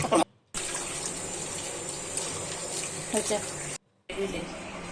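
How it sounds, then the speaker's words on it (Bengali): Mangoes for a Kashmiri-style pickle are washed under a running kitchen tap, with a steady close gush of water that cuts out briefly twice, once near the start and once near the end. "আর আমি আমটাকে ভালো করে ধুয়ে নিচ্ছি।"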